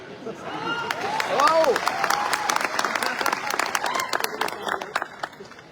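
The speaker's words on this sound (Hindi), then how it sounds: "हमारे लोग ताली बजाते हैं, आपका स्वागत करते हैं" Audience at an achievers' recognition event clapping in welcome, a dense, steady burst of many hands with scattered cheers and voices mixed in throughout.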